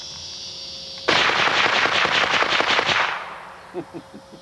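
A Feather Rav .22LR take-down rifle fires a rapid run of sharp, loud cracks for about two seconds, then a few fainter clicks and clatters of the action follow.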